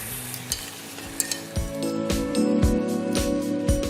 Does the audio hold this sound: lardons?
yes